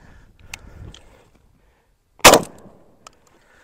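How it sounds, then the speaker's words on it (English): A shotgun loaded with multi-defense buckshot fires a single loud, sharp blast at close range, ringing briefly after quiet handling noises, with a small click afterward. "I'm going to shoot at the X-ring with that multi-defense buckshot"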